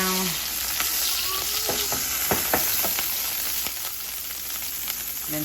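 Oil crackles and sizzles steadily in a frying pan with melted butter, prepared for shrimp scampi, with a few sharper pops and clicks of a utensil moving through it; close and continuous, no voices.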